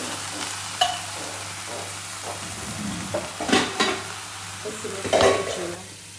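Veal fries in olive oil in a pan, giving a soft, steady sizzle with scattered scrapes and clinks of a utensil stirring against the cookware, no voices.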